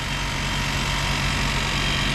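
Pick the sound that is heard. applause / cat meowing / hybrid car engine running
hybrid car engine running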